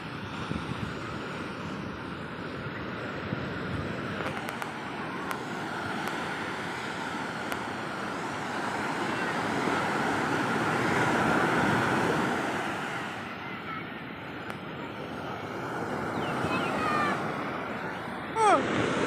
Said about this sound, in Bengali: আর ঢেউয়ের আওয়াজ দেখো